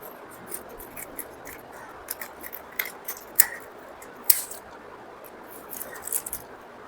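Scissors snip through small fish, cutting at the spine, with sparse, faint clicks and crunches scattered over a quiet background hiss.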